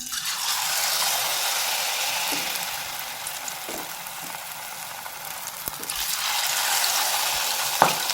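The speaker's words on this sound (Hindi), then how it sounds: "तो देखें मेरा ऑयल गर्म हो चुका है, तो बस अब हम लोग डालना शुरू करते हैं।" Spinach (palak) pakoras sizzle in hot oil, a steady bright hiss close by that rises and falls as batter goes in, with a few faint clinks and no talking.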